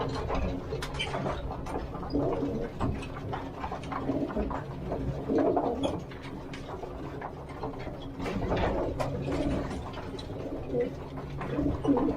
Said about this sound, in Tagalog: habang kumakain muna yung ibon natin